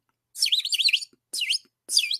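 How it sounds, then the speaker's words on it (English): A small bird chirps in three quick bursts of bright, twittering tweets, close and clear against silence. "This is not a frog. This is a bird."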